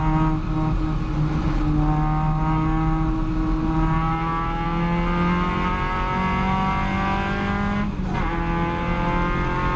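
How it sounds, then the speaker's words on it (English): Caterham race car engine at full throttle on a racing circuit, a loud steady in-car drone with rising and falling pitch through gear changes, a brief dip near the end. "This is a good run on Don, but I started it a bit late, so I can't quite get overlap"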